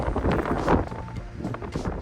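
Gusty wind in the snowy Sierra Nevada buffets the microphone in low, rumbling waves, rising and falling over two seconds, with no talking.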